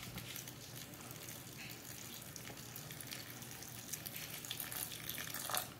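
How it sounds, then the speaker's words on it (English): Faint, steady trickle of water poured into a pouch of dried instant rice, a soft continuous hiss that grows slightly louder toward the end. "So now I'm gonna pour some water."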